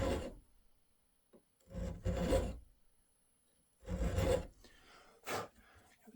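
Hand filing of metal on an Enfield rifle receiver: two separate bursts of rasping file strokes, each made of a few quick rubbing passes, close and fairly quiet, with short pauses and no talking between them.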